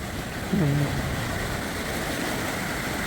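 Flood water surges through the Rånåsfoss dam in Norway, a steady, dense roar of churning water that holds at a constant loudness, with a brief voice breaking in near the start.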